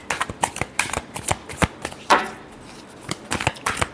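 Tarot cards riffled and shuffled by hand in quick, crisp bursts, a rapid irregular run of close papery flutters and snaps, no talking over it.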